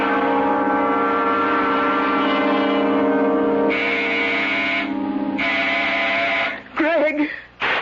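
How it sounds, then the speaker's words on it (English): A door buzzer sound effect in a live radio drama stage production drones as a long, loud, harmonically rich electric buzz. It holds steady for several seconds, shifts tone partway through, then breaks off into brief voice-like noises near the end. "When Sandy pushes that door buzzer, listen to it carefully, Florence."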